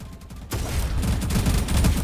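Sniper rifle and sawed-off shotgun fire in a Roblox first-person shooter, a quiet lead-in cut by an abrupt blast, then a continuous rattle of rapid, overlapping gunshots.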